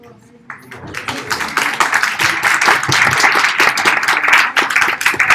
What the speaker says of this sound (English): One more round of applause for Kasuba